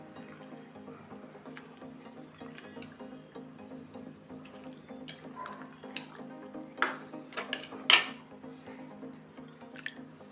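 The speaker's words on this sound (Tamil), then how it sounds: "இப்போ மீனை போட்டுக்கிறோம்." Pieces of sheela fish go into a simmering tamarind fish gravy, soft drips, plops and a few sharper splashes over a faint steady bubbling, close and quiet with no talking.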